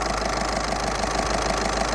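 A 1.6 TDI diesel engine ticks over at a steady, even idle after its injectors were cleaned, a close continuous rumble with no voices.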